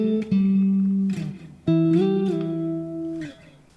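Octave figures from a song played on an electric instrument, two short sustained phrases of bright, resonant notes sliding between pitches, close and alone without voices.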